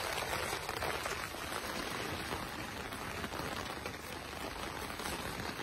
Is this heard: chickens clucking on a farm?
no